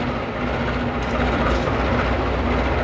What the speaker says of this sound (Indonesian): Vintage kereta Blambangan tuh.